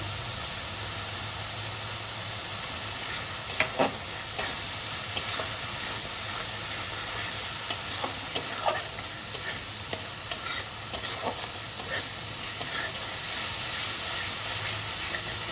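Spices with turmeric and chili powder fry in a pan for a pointed gourd and prawn curry, giving a continuous close sizzle and hiss broken by frequent small stirring scrapes and clicks.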